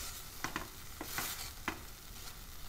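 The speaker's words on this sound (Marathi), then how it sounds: "आता काजूची पेस्ट घालूया. मिक्स करूया." Cashew paste being stirred into paneer butter masala gravy makes a few soft, wet scraping strokes in a quiet, slow rhythm over a faint background sizzle, close and gentle.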